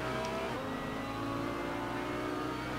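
Continuous roaring MG car engine in the racing game Assetto Corsa during an online race, held at high revs, a dense steady drone with no pauses.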